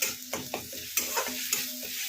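Beet paste is stirred and stir-fried in a pan with oil, soft rhythmic scraping strokes over a quiet sizzle, close and fairly faint, with no voices.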